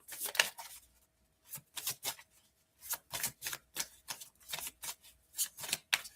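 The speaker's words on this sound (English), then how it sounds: "It's weird shuffling with such a thin deck." Bursts of tarot cards riffling and flicking from a thin deck, about ten short crisp shuffles separated by brief pauses, close up and alone with no talking.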